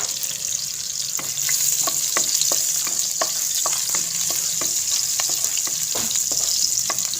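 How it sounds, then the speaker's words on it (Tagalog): Garlic and onion sauté in a pan for a bitter gourd dish with sweet potato and egg, giving a steady close sizzle. Sharp scraping clicks of stirring repeat throughout, and no one speaks. "Maggigisa na tayo"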